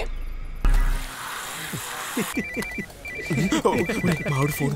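A phone rings with a repeating electronic trill while people talk over it nearby.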